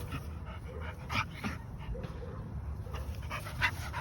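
An XL bully dog pants steadily and lets out thin whimpers, close by, with rough breathing running throughout and a few higher whines poking through.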